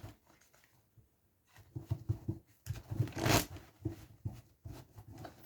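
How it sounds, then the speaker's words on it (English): Tarot cards being shuffled by hand, a quiet pause and then bursts of riffling and slapping card sounds, close and fairly soft, with one louder flurry near the middle. "I'm going to give one more shuffle."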